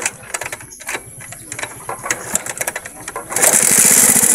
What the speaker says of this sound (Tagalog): Pangit ang andar mga kaibigan, sobrang lagitik.